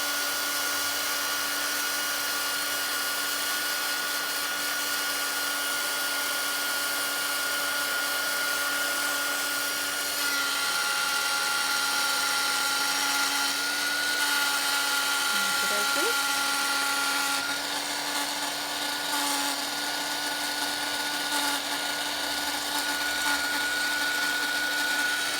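A handheld drying tool blowing over freshly painted letters on box frame art, a steady close whirring hum holding constant for the whole stretch with only slight shifts in pitch.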